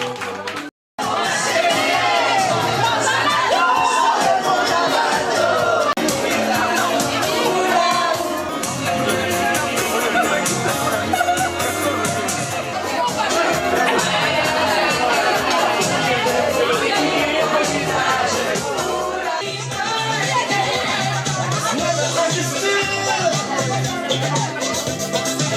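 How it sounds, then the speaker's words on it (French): A crowd at a karaoke party for a twentieth birthday claps, cheers and chatters continuously in a lively room, with shouts rising over the din after a brief silence at the start. "On peut les applaudir. Bravo."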